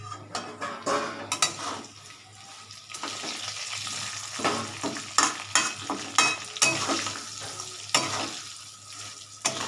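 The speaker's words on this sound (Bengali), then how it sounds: "শাক একটু নাড়াচাড়া করি" Greens fry in a pan, sizzling close by while a utensil scrapes and clinks against the metal in uneven bursts of stirring.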